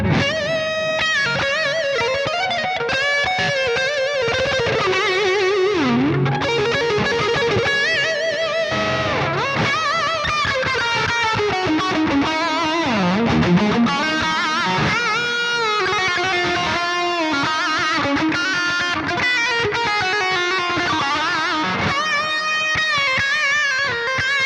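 Electric guitar metal solo through the Bogren Digital MLC Subzero 100 amp plugin, loud and heavily distorted, with sustained bending lead lines and fast runs over a dense backing that plays continuously.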